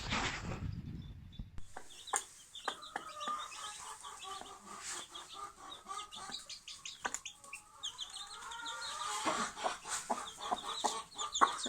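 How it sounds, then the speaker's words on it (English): Hens cluck and chatter in short, irregular calls close by, with a brief rustling burst at the start and no talking. "these 2 naughty little hens just decided they wanted to be out"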